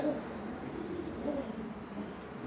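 A roughly six-month-old young racing pigeon gives soft, low, repeated coos, close by and faint against background noise.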